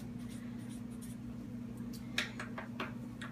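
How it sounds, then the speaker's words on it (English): Pen or marker writing on a worksheet in a color wheel lesson, a few faint scratchy strokes near the end over a constant low hum, quiet and close. "So we're going to write on the worksheet green."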